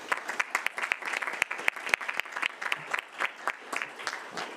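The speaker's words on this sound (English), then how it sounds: "if we could just give another round of applause, please" An audience at a mock city council meeting applauds, a dense patter of many clapping hands with uneven peaks, moderately loud and continuous throughout without speech.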